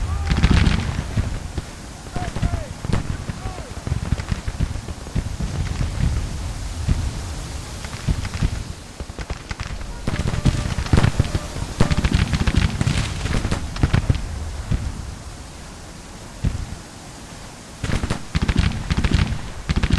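Musket volleys crackle across a battlefield in the Civil War strategy game Grand Tactician, dense, loud rolling gunfire in repeated bursts with short lulls between them.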